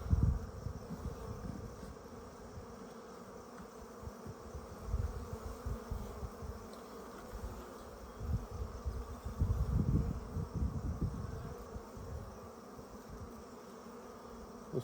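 Honeybees buzz steadily around an open hive during an inspection of frames holding eggs and larvae, a dense close hum with brief louder swells as bees pass near.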